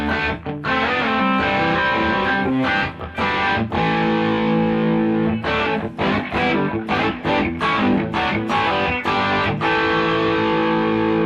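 An electric guitar played through a Prince of Tone Bluesbreaker-style pedal on its overdrive setting rings out loud and gritty, with strummed chords and short riffs broken by brief pauses and no talking.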